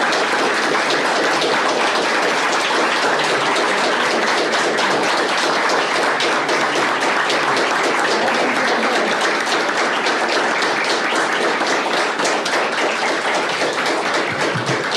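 Sustained applause in the Brazilian parliament, a dense, loud roar of many hands clapping continuously for the full stretch, close and unbroken, with no speech on top.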